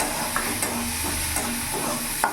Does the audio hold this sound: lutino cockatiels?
no